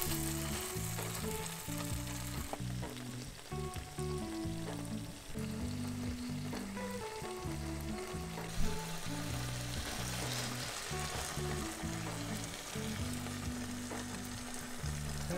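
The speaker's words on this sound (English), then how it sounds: "some delicious fresh mutton snapper seared with butter and Old Bay" Fresh mutton snapper searing in butter with Old Bay aboard a trimaran galley, a steady loud sizzle and crackle of frying that runs unbroken throughout, with no talk.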